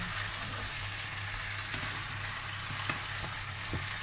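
Adobo sizzling and frying in a crowded pan while being stirred, a constant hiss of hot oil with occasional scrapes and clinks of the utensil against the pan.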